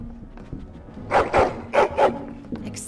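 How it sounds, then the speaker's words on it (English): Dog in Dragon Age: Origins barks excitedly, four quick loud yelps in two close pairs, clear over a low game ambience. "Excited barking."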